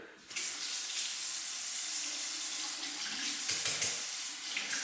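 Water runs steadily from a bathroom sink tap, a constant hissing splash that starts abruptly and continues close by without interruption.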